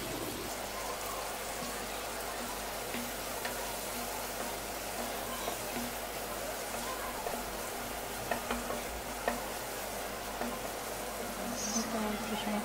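Bitter gourd is fried and stirred in a pan while making a koi and shing fish curry, a steady sizzle with intermittent spatula scrapes and faint crackles, close by, with a voice speaking in the background.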